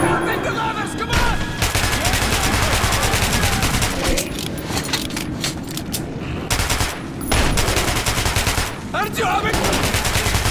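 Loud, sustained automatic gunfire in Metro 2033 Redux, dense bursts of shots filling nearly the whole stretch with brief lulls, alongside shouting and game noise.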